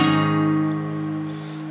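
A single ringing guitar chord decays slowly after one strum, clean and fairly soft, with no further picked notes.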